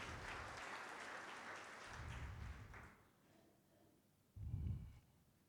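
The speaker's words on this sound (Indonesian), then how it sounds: "Berikan tepuk tangan bagi Tuhan." A church congregation claps loudly for a few seconds, then the applause fades into a quiet room, with a short burst of clapping near the end.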